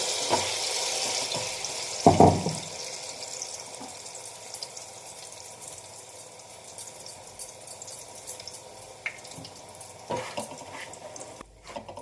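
Malpua batter made from urad dal and rice drops into hot oil in a kadai and fries with a soft, continuous sizzle, marked by a brief splash early on and scattered crackles throughout.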